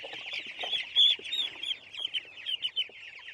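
Chickens cluck and chatter continuously, a busy flock of short calls overlapping at close range with no talking.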